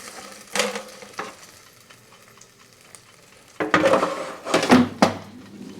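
Food being flipped in a Tefal Easy Fry Essential 3.5 L EY1308 air fryer: a few soft knocks early, then a louder cluster of scraping, clattering handling noises with a light sizzle near the end.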